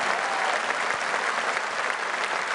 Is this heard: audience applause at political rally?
yes